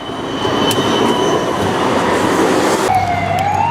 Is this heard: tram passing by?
yes